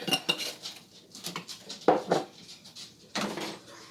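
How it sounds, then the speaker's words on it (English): A spoon stirring chili in a metal pot, a few separate scraping clinks and knocks spread over a few seconds, close and fairly soft. "Go ahead and give that a stir."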